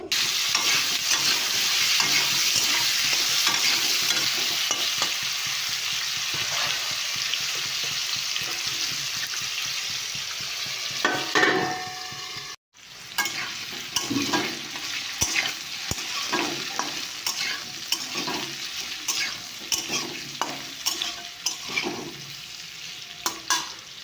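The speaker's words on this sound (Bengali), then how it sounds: "আলু ভাজাটা বসিয়ে দিয়েছি হলুদ নুন দিয়ে" Potatoes frying in a pan with turmeric and salt give a steady, close sizzle with repeated scraping stirs, broken by a brief silent cut midway before the frying and stirring resume.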